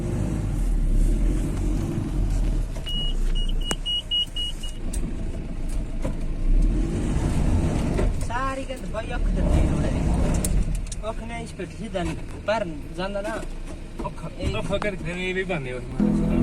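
A camper vehicle drives along a rough mountain road near Shinkula Pass, its engine a steady low rumble throughout, with a person talking over the drive during the latter half.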